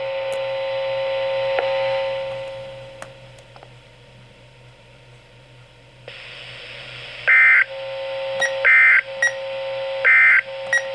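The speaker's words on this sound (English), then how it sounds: "This concludes the tone alarm test." A weather radio's weekly Emergency Alert System test for the Rockford area sounds a steady electronic alarm tone, then after a pause repeats a pattern of sharp, loud digital beep bursts at regular intervals.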